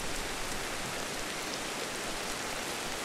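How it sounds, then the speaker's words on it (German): Steady rain falls in the video game Ancestors: The Humankind Odyssey, an even, dense hiss of drops on surfaces that stays constant throughout with no voices. "es ist kalt, weil es regnet"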